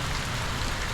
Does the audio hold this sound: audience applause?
no